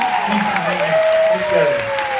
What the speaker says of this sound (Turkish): Alkışlar Ali Can Yücesoy için gelsin.